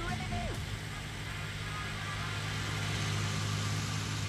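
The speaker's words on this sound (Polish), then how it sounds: "Ale te samochody głośne, Boże." A car engine drones continuously at a steady low pitch, fairly loud and close, in-game vehicle audio from Farming Simulator 19, with no voices.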